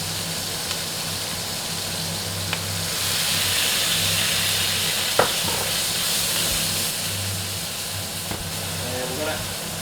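Chinese cooking wine hits a hot pan of cooked mince for mapo tofu, giving a loud, steady broadband sizzle that hisses on for several seconds with a few sharp crackles.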